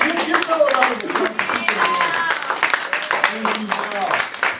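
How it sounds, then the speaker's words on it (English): A live audience at a comedy podcast taping in a bar claps and cheers in a lively round of applause for a staff member, with voices and talk mixed through the clapping. "Give Val a round of applause."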